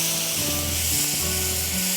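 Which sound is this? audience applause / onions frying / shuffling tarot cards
onions frying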